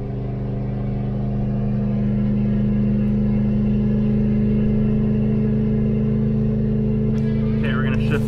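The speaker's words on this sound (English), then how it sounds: "we're gonna get ready to shift to first gear, let off the throttle" A Ford F-250 diesel pickup towing a heavy 35,000 lb load drones with a steady, loud low engine rumble and constant road noise throughout, with a brief rattle near the end.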